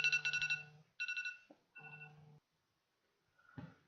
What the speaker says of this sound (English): That was my boring alarm.